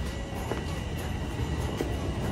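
A northbound Yonge Line subway train in Toronto rumbles loudly and continuously, with a dense rolling roar and faint rattles throughout.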